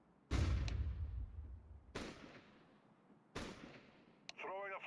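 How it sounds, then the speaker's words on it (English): Grenades detonate in Counter-Strike 2, with three sharp, booming blasts spaced over a few seconds, each ringing and decaying quickly, followed by a brief click and a short tonal burst. "Throwing a flashbang. Flashbang out."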